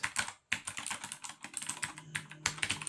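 Fast, steady typing on a Cooler Master SK622 wireless 60% gaming keyboard, with close, crisp keystrokes clattering in dense runs and one brief pause, no voices.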